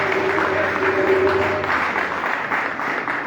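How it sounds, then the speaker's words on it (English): Audience applause at a fundraiser launch in Liberia, a dense continuous clatter of clapping from a crowd, fairly loud and steady throughout. "I give you a big applause for the gentleman"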